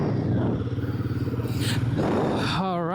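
Royal Enfield Guerrilla 450 motorcycle being ridden, a steady low engine rumble with a rhythmic pulsing exhaust note that rises in pitch near the end as the rider accelerates; brief voice-like sounds pass over it.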